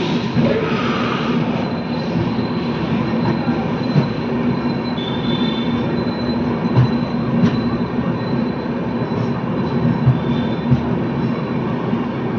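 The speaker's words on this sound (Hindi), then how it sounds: "अपनी ट्रेन का जो है हो रहा है डिपार्चर शाहजहाँपुर जंक्शन से" Lucknow Mail express train pulling out of Shahjahanpur Junction at night, a loud steady rumble of wheels on rails with intermittent squeals and faint clicks, heard close from inside the coach without talk.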